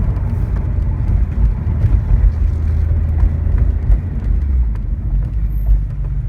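A 1995 Porsche 993 climbs a hill, its engine a loud, continuous low rumble heard from inside the car, steady and droning with slight swells in intensity throughout.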